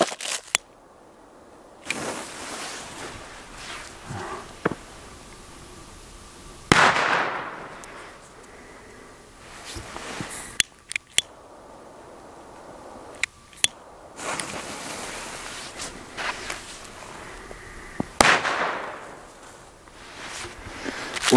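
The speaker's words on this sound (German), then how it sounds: "Dann jetzt die Super Crackers von BVD" BVD Super Crackers, older firecrackers, set off outdoors in snow: a series of sharp, loud bangs at irregular intervals, some followed by longer crackling bursts, with quieter gaps between them.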